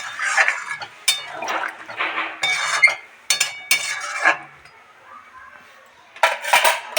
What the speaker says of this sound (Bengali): ঢাকনা ঢাকা দিয়ে দেবো